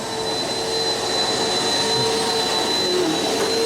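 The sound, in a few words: vacuum cleaner running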